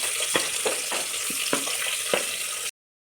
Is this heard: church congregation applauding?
no